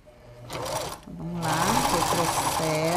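Sewing machine backstitching elastic onto a child's patchwork princess crown for a carnival costume, its motor whirring in bursts that build to a steady run while someone talks over it.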